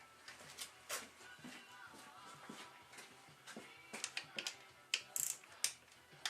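A torque wrench tightens the engine bolts of a 1984 Honda Nighthawk S motorcycle, giving faint, close ratcheting clicks in small clusters, with a few sharper clicks near the end.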